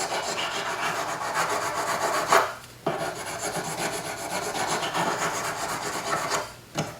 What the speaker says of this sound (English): Sanding them with a coarser grit,